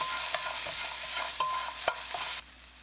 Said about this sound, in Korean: 팬에 식용유 1스푼, 감자 넣고 중불로 2분 볶아주세요